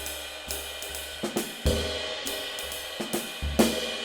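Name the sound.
jazz cymbal release, stick slapped across cymbal bow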